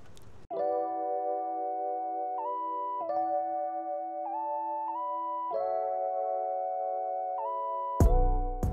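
BMW X5 power tailgate closing on its own, marked by a repeating electronic chime of bright stepped tones sounding steadily for several seconds, ending in a short loud thud as the tailgate shuts.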